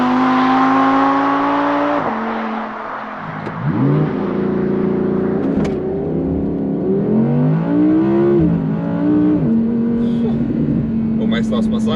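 An entry-level Audi R8 pulls away on the road, its engine note climbing through several gears in rising and falling sweeps, loud and close from inside the car.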